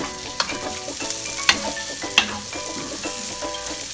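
Pancit canton noodles stirred and frying in a pan, a steady sizzle broken by a few sharp utensil scrapes and clinks against the pan, heard up close with no talking.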